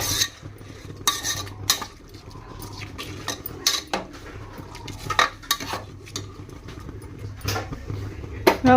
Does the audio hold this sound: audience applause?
no